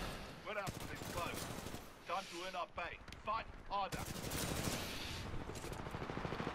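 Rapid automatic gunfire from amped weapons in the video game Titanfall 2 rattles in bursts, mixed with game effects and a voice talking over parts of it.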